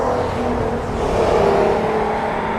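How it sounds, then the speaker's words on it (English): Steady road traffic roar from a nearby road, with a car engine whirring past and swelling slightly midway, continuous and fairly loud with no talking. "Sorry about the road noise behind me."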